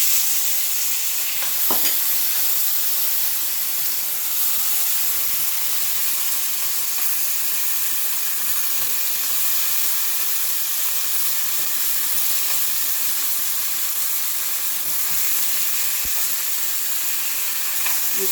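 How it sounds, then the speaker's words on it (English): Stir fry sizzles steadily in a hot pan as it is stirred quickly, a dense continuous frying hiss with faint scraping clicks, close and fairly loud throughout with no talking. "going to hear it sizzle when I put it in, and I'm going to stir it quickly"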